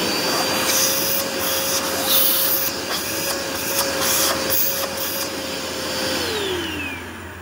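A Dirt Devil Endura Max UD70175 vacuum cleaner runs steadily with a loud whine and airy hiss, its pitch dropping slightly near the end as it winds down; close up, no voices.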